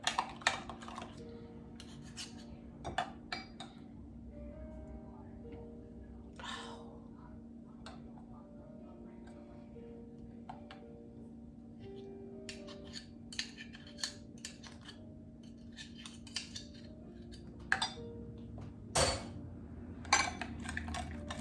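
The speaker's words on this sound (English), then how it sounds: "Let's mix everything together." BBQ rib seasoning ingredients being mixed in a bowl for Jamaican-style pork ribs: soft scraping and rubbing with scattered clinks of utensil against the bowl, close by and fairly quiet, with occasional faint kitchen clatter.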